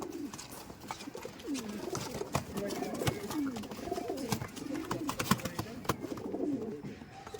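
Teddy pigeons, a high-flying breed, coo steadily in soft rolling calls near a coop, with faint rustling and clicks around them and a voice talking at times.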